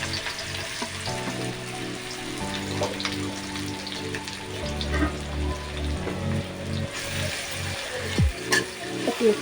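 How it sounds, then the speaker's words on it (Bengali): Onions sizzle and fry in hot oil and ghee in a pan for chicken biryani, a steady crackling hiss with stirring scrapes and clinks of a utensil, close and without talk. "এই পেঁয়াজগুলি এই তেল আর ঘিয়ের মধ্যে দিয়ে দিলাম।"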